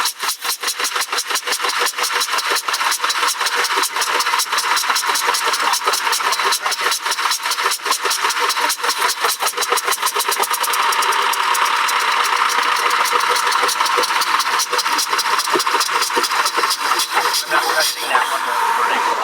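A 1920s car engine with a worn rod bearing runs steadily at close range, its rapid rhythmic knocking loud and unbroken throughout with slight shifts in pitch.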